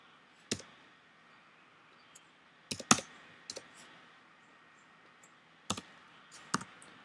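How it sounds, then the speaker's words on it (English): A computer keyboard's G key is pressed again and again during 3D modeling work: sharp, close clicks arriving in irregular clusters with quiet gaps between them, and no talk. "actually clicking on the G key to repeat the command"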